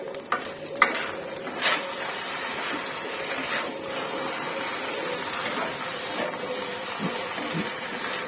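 An egg fries and is folded in a hot wok while making stir-fried wide rice noodles with soy sauce. Steady, close oily sizzle with scattered scraping and tapping from the spatula.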